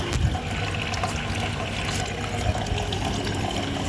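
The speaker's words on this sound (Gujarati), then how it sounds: "ગોળામાં પાણી નાખ્યું" Water gushes at full pressure into a pot with a steady, loud rushing and splashing that lasts throughout. There is no speech.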